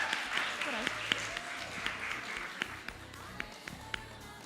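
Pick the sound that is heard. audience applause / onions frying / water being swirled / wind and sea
audience applause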